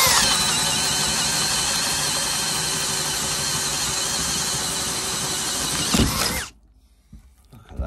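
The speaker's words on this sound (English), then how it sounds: "So what about if we stick this auger bit on a faster speed?" An auger bit is driven at high speed through wood, giving a loud, continuous grinding whir with a squealing edge that holds steady for about six seconds, then cuts off abruptly, leaving near silence and faint handling noise.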